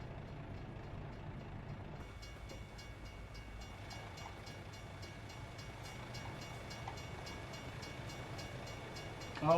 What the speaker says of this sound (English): Oh, it's a train behind us.